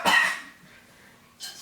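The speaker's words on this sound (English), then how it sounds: "Sasha developing a strange cough" Young woman coughing in a film, one harsh, close cough followed by a quieter pause and the start of another cough.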